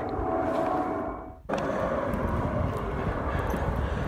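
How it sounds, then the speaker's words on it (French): Steady broadband roar of aircraft landing at Roissy airport, heard over a cemetery in Gonesse, loud and continuous with a brief dip before the drone resumes. "avec tous les avions qui atterrissent à Roissy"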